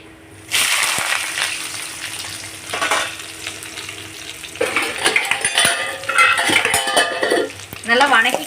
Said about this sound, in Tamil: நல்லா ப்ரௌன் கலரில் வர அளவுக்கு வணக்கிக்கலாம்